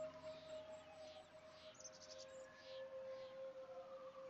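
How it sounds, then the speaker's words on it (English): Faint, distant sirens wail in a long steady tone over quiet background hiss, with some chirping mixed in. "I can hear sirens."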